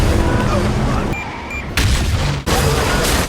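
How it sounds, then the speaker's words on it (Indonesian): Dense gunfire and booming blasts fill a street shootout in a film, loud and continuous with two brief drops, while a narrator talks over it. "memicu baku tembak sengit di tengah jalan"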